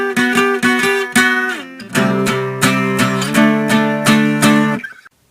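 Guitar plays a riff, rhythmic power chord strums that shift up a step partway through, close and loud, ending in a brief slide and muted stop.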